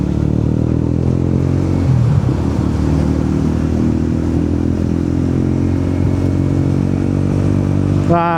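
A motorcycle rides a rural road past teak plantations, its loud, steady engine drone rising in pitch as it accelerates to overtake, with wind rush throughout and a sharp rising whine near the end.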